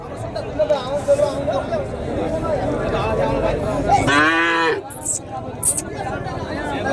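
At a bustling cattle market in Matrapalli, cattle and bull calves moo, with one loud, drawn-out moo rising over a steady background of crowd chatter and voices.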